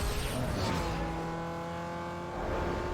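A Mazda RX-8 in the racing game Need for Speed Underground 2 drives with a continuous engine drone whose pitch sweeps, set against a loud, dense wash of game noise, with no talk.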